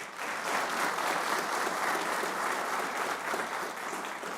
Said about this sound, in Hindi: हाँ तालियां बजा लो।